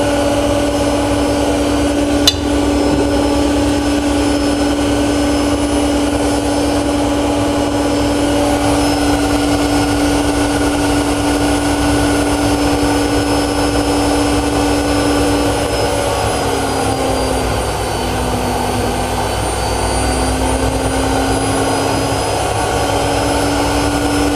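A Miele Honeycomb Care W5748 washing machine spins at high speed with a loud, steady high-pitched whine and deep rumble, the pitch shifting slightly partway through.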